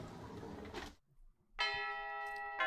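School bell ringing in a classroom scene of a visual novel game, a sustained bright chime with strong ringing tones that starts after a brief quiet gap and carries on, preceded by muffled noise.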